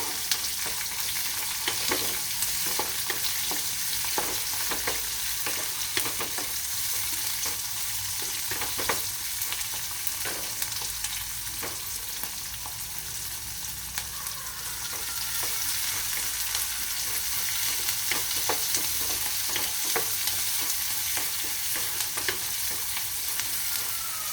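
Chopped onions with green chillies fry in oil for upma, a continuous close sizzle broken by repeated scraping strokes of a spoon stirring the pan, with no talking.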